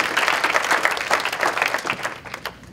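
Audience applause at a youth summit, a dense burst of many hands clapping that swells briefly and then tapers off within a few seconds.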